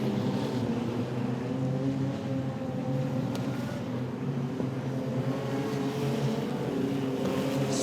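Wingless sprint cars race at Archerfield Speedway, a dense, continuous engine roar holding steady for several seconds with a loud, slightly shifting drone and no clear voices.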